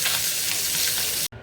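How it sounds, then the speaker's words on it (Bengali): Koi fish frying in a pan for a home meal, a loud, dense oil sizzle hissing steadily and close up, cutting off abruptly near the end. "এখানে এই যে রান্না বসিয়ে দিয়েছি, কই মাছটা ভাজতে দিয়েছি।"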